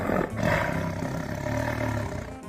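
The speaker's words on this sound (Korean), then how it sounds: "제일 기억나는 호랑이 울음소리가 어떤 거예요?" An angry tiger gives a sustained, deep, rumbling roar, loud and close, filling the whole stretch on its own.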